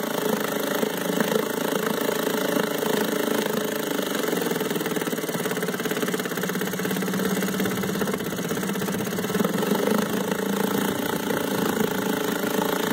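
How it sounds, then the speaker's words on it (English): An Eska 5 horsepower outboard motor, freshly given a carburetor service, idles low and slow with a steady, even mechanical chugging at moderate volume and no voices. "Idles well, runs low,"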